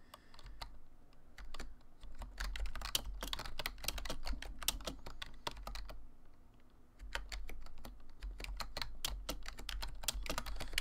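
Typing on a computer keyboard: quick bursts of close, crisp key clicks in an uneven rhythm, with a short pause midway before the tapping resumes, and no talk over it.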